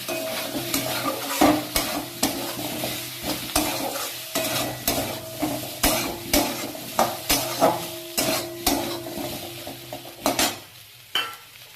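Spice paste, turmeric and potatoes frying in a pan, a soft sizzle under repeated rhythmic scrapes and clinks of a spoon stirring against the metal.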